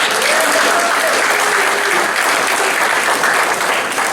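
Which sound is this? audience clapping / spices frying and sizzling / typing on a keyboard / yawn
audience clapping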